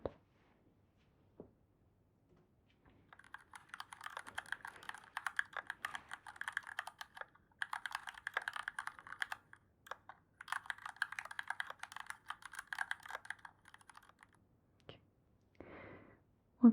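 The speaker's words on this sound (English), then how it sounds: "Keyboard, typing sounds." Soft, close typing on a computer keyboard: rapid irregular key clicks in several bursts separated by short pauses, quiet and intimate against near silence.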